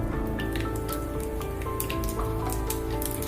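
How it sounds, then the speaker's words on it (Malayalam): Half a teaspoon of mustard seeds splutters in two tablespoons of hot coconut oil for a Kerala-style dry prawn and mango curry, a steady close sizzle studded with sharp popping crackles. "വെളിച്ചെണ്ണ നന്നായി ചൂടായ ശേഷം അതിലേക്ക് 1/2 ടീസ്പൂൺ കടുക്"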